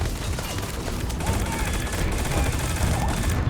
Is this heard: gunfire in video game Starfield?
yes